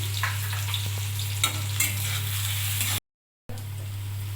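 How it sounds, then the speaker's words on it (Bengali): Salted onions fry in oil in a kadai for a katla fish curry, producing a loud, unbroken close-up sizzle with a few faint stirring knocks, cut by a short silent gap near the end. "পেঁয়াজ ভাজা হয়ে গেছে"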